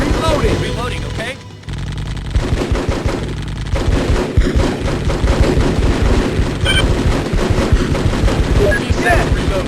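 A squad lays down suppressing fire in Full Spectrum Warrior: dense, continuous machine-gun bursts and rifle shots roar close and loud almost throughout, with soldiers' voices shouting over the din.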